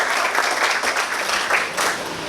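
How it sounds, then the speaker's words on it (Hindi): Audience applause at a Hindi poetry recital, a steady dense burst of clapping from a nearby crowd lasting a couple of seconds with slight swells, no voices. "तालियां हो जाए।"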